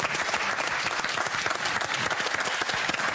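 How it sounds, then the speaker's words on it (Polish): A television studio audience breaks into loud, dense applause, many hands clapping continuously after a live performance. "Wielkie brawa."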